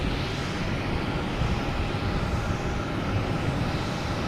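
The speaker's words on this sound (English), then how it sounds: "Next taking off, we have a Southwest heading to Austin," A Southwest Airlines Boeing 737 MAX 8 takes off from Boston Logan, a steady broadband jet-engine roar holding level and fairly loud for the whole stretch, with no voices.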